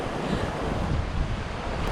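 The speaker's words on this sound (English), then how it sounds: "Yes guys, sea rough today." Rough sea surf washes against the Jamaican coast in St. Mary, a broad, continuous rushing roar mixed with heavy wind buffeting the microphone, loud and close with no voices.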